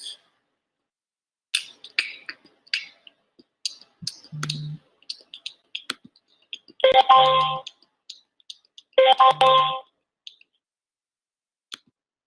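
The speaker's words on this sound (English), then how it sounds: "Wait, notifications going off." Phone notification alerts go off at a desk: a low tone followed by two bright electronic chime bursts, close and fairly loud, among scattered mouse clicks and keyboard taps with no talking.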